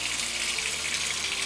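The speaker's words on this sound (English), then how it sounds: "put the water in, then turn it upside down, and then run it back and forth so the water can pull the junk out" Water sloshes and gushes through an upturned Bosch dishwasher spray arm as it is rocked back and forth, a loud continuous bright rushing and splashing very close by, with no voices.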